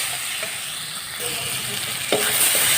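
Soya chunks fry in a pan with a steady hissing sizzle while being stirred, a few scraping knocks of the spoon breaking through near the end.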